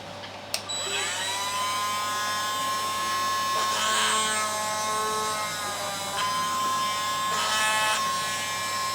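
A small high-pitched drill whines steadily for several seconds, its pitch wavering slightly as it bores a shallow guide hole into wood for a 1:12 scale miniature log cabin, with a brief knock at the start.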